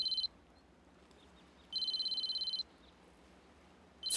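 Telephone ringing in a dubbed Spanish drama: an electronic trill repeated in short bursts, two rings separated by quiet pauses and a third starting at the end, fairly soft against a quiet room.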